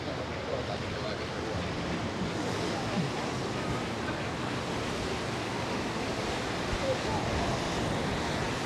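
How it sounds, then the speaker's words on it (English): Steady sea surf and gusty wind on the Costa Blanca coast at Torrevieja, Spain, a continuous loud rushing wash with wind buffeting the microphone throughout. "Sea's running. It's a bit breezy."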